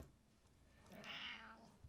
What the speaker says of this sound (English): She has quite an interesting meow, like a lot of Siamese cats do.